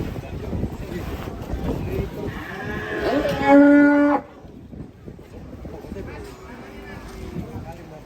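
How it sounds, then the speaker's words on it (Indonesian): Cattle being unloaded from a truck let out a loud, drawn-out moo close by, amid wind noise and people talking. "Ini ada sapi"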